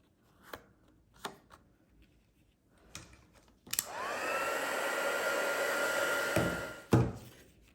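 A heat tool for gold heat embossing on a stamped card blows steadily for about three seconds at close range, with a few taps and clicks of handling before and after.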